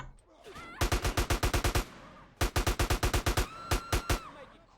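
Three loud bursts of rapid automatic gunfire in Grand Theft Auto: The Trilogy – The Definitive Edition, each a tight string of sharp shots, separated by short pauses with faint background tones.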